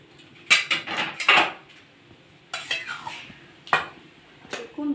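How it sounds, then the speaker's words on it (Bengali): Metal spoon scrapes and clinks against a pot as cooked banana flower ghonto is transferred into a serving dish, in several bright clattering bursts separated by short pauses, close by. "এটা আমি একটা পাত্রে ঢেলে নেব।"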